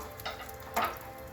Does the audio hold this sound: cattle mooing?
no